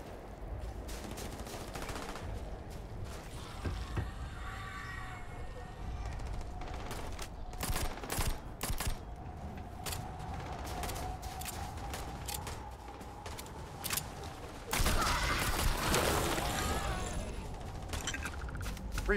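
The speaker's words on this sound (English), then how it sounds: "they're just firing off into the void" Gunfire in the video game Starfield, with scattered sharp shots and short bursts over a low ambient hum, some near and some distant, building to a denser volley near the end with no talk.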